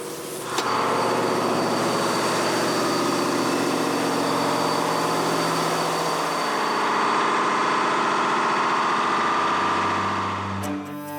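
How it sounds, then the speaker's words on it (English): Diesel generator running in the engine room of a 212A class submarine, a loud, continuous, heavy mechanical roar that starts abruptly and holds steady at close range. "the deafening noise in the engine room cannot be heard outside"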